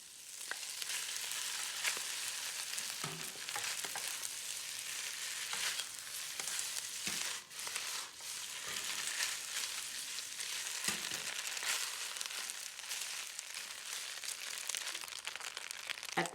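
Onion whites and wide rice noodles fry in oil in a hot pan for beef chow fun, giving a steady, dense sizzle throughout with occasional soft scraping as the food is stirred.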